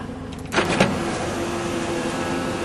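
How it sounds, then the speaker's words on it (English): The electric J-top moonroof motor of a Toyota Lucida runs with a steady low whine inside the car, preceded by a couple of soft clicks as it starts. "And this is the electric J-top moonroof."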